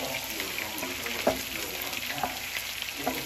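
Chicken curry with bell pepper frying in a hot pan, a steady close sizzle with occasional stirring clinks and scrapes, heard alone without talk.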